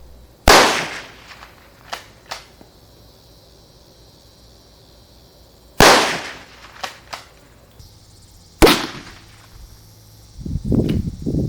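Winchester 1890 pump-action rifle firing CCI 45-grain .22 WRF rounds outdoors: three sharp, loud single shots spaced several seconds apart, with fainter clicks of the pump action between them and some rustling at the end, no talking.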